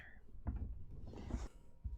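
A door is pushed shut with a few low, muffled thumps and some creaking and rustling. The sounds come close together and are faint, followed by one last soft bump.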